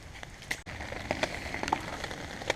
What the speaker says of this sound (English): Still raining. Kind of a little rainy drizzle.